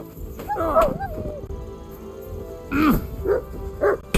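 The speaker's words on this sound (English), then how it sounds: "Fucking dog!" A dog barks and yelps in the video game Kingdom Come: Deliverance II, with a whining yip early on and then a quick run of short barks, mixed with shouting voices and background noise.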